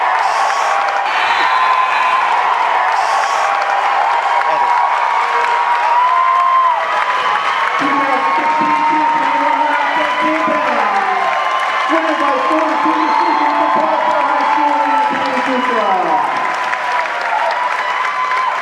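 Large crowd at a wrestling finals roars with sustained cheering and applause, steady and loud throughout, with scattered whoops and shouts rising above the clapping.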